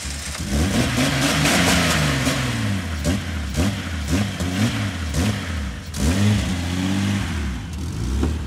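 An old 4x4's engine runs roughly, revving up and down unevenly in surging bursts, loud and close, with no steady idle.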